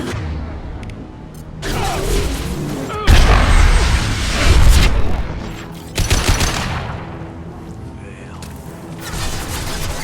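Loud, dense gunfire erupts in Mass Effect 2 at an archaeological dig site, with rapid bursts, impacts and booming blasts across the whole stretch.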